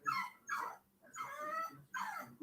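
A dog whimpers and yips in a string of high, whining bursts with short gaps between them, fairly faint and close, with no talking.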